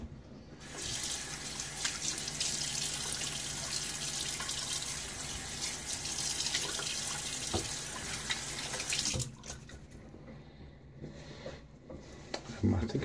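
Tap water pours into a sink during a wet shave with a Rockwell 6S safety razor, a steady loud hiss for about nine seconds that then stops, leaving quieter small sounds.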